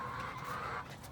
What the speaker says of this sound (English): this rooster is crazy